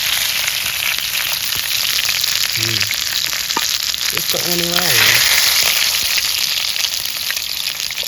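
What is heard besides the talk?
frying tomato sambal for grilled tuna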